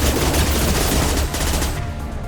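Loud, sustained automatic gunfire in a Mass Effect 2 firefight, a dense rattling volley that barely eases over two seconds.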